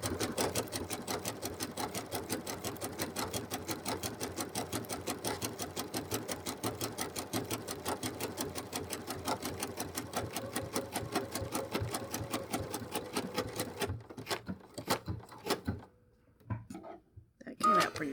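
A sewing machine runs stitch 449 at default length and width, sewing wool applique leaves with SP12 thread. Rapid, steady mechanical clatter runs near and continuous for most of the stretch, then slows to scattered taps before stopping.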